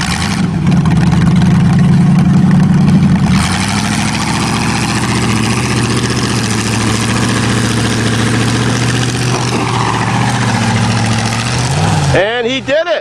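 A car engine holds a steady drone under constant throttle on a farm hill, loud and continuous, with a heavier burst at the start and a voice breaking in at the very end.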